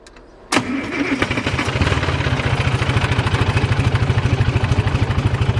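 A 1960s Pettibone diesel, abandoned and left sitting for years, cranks briefly and catches with a sharp burst, then settles into a loud, close, rhythmically chugging idle.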